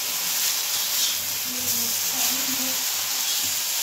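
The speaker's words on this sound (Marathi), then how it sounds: "आता मी तव्यात टाकून चांगली भाजी अशी भाजून घेते, तेल वतून चांगली भाजायची बघा भाजी" Washed ambadi (roselle) greens roast in oil on a hot griddle pan, giving a steady, moderately loud sizzling hiss with a soft low hum beneath.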